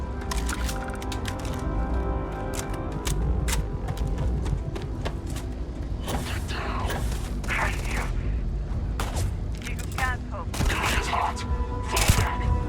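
Gunfire crackles in Starfield, bursts of rapid shots with sharper bangs scattered among them and a louder blast near the end that fits a grenade, all under game music and occasional talk.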